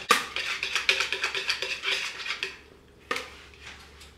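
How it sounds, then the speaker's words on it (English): A utensil clinks rhythmically against a bowl while yogurt, eggs and vanilla are mixed for an apple crumble, a quick run of close taps, a pause, then a few more strokes. "Mixing up the yogurt and the eggs and the vanilla."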